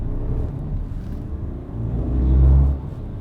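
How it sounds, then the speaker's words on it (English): A BMW 220d Gran Coupe diesel pulls away from a standstill, its low engine rumble steady at first and then swelling louder for a moment before easing back. "So as I accelerated from the standstill"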